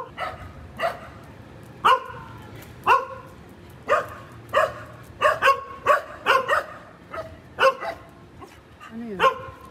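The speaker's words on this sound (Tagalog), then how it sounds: "May mga aso kasi dyan sa kabila, naririnig nila, kaya sila tumatahol." Neighbouring dogs bark repeatedly at a moderate distance, sharp irregular barks in quick clusters, with a brief whimpering yelp near the end.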